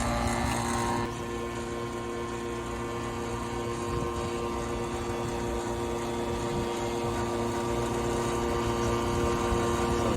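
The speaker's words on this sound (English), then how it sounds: "We're going to turn the blower on, get the cord out, plug it in." A blower running steadily throughout a tank tightness vacuum test, a loud constant mechanical drone with whine and hum, briefly higher in pitch at the start.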